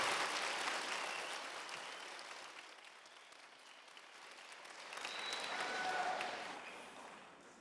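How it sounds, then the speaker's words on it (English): Audience applause at a middle school choir concert, honoring a 12-year-old student accompanist; a broad wash of clapping swells, eases off midway, then rises again before fading out. "That deserves a round of applause."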